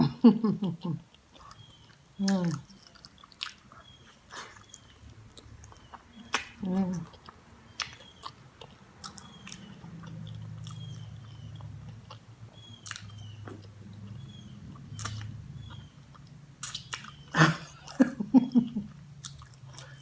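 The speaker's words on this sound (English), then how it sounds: "I have to pick this up and chew it." Someone chews smothered pork chop meat off the bone, close and moist, with irregular crunchy bites and smacking over a low background hum; brief vocal sounds break in at times.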